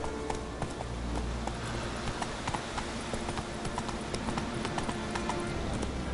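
Horse galloping in The Witcher 3 on PS4, a steady rapid clip-clop of hooves driving along continuously over game ambience and music, close and clear, no talk.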